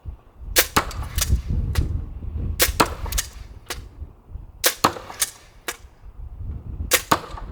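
Fenris bow loosing five arrows in quick succession outdoors, each shot a sharp, snapping crack with a brief ringing tail, spaced unevenly across the clip with light wind-like rumble beneath.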